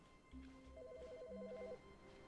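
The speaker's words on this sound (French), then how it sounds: "Téléphone." An electronic telephone ringing inside The Stanley Parable video game: a quiet warbling trill that repeats briefly, heard alone at low volume.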